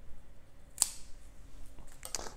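Scissors snip off browning leaves from a dying orchid in a few quiet, crisp cuts: a single clear snip, then a couple more close together near the end.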